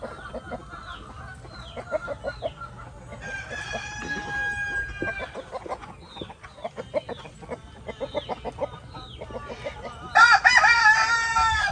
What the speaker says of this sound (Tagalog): Magulo yung mga manok guys, magulo.